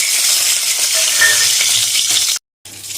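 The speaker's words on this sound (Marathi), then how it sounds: "तेल चांगलं गरम झालं की आपण याच्यामध्ये काप करून घेतलेली अंडी घालणार आहे।" Sliced boiled eggs fry in hot oil, making a loud, dense, continuous sizzle up close that cuts out briefly near the end and then resumes.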